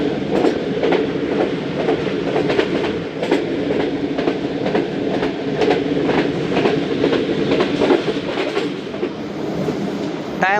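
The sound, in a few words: Karachi Express passenger train running on rails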